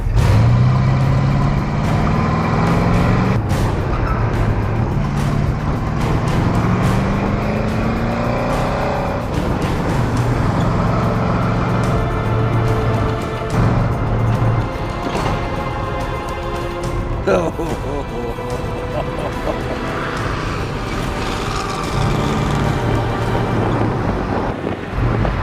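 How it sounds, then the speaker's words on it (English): A daily-driver car with roughly 350,000 miles makes an autocross run towing a trailer on an unpinned coupler, its engine droning loud and continuous with rising and falling revs throughout, faint voices occasionally audible underneath. "We figured it just wouldn't make sense if we didn't do the autocross with the trailer attached."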